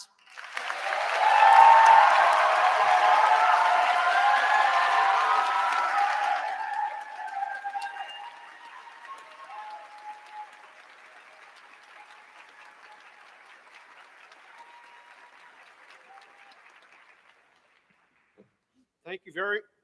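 A large audience at a Class of 2023 commencement ceremony bursts into loud applause that fades into sparse, distant clapping, then falls nearly silent before a brief sound returns at the end.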